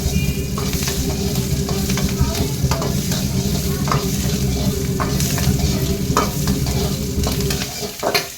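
Capsicum and onion frying with garlic and ginger in a pan over a high flame, a steady, dense sizzle throughout with occasional stirring scrapes, close and loud, fading slightly at the very end.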